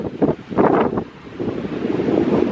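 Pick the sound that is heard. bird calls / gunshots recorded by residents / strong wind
strong wind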